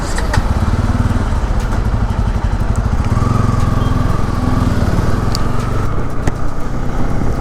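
A Bajaj Pulsar N250 motorcycle engine runs while being ridden, a loud, close, continuous drone with steady pulsing and a rush of wind over it.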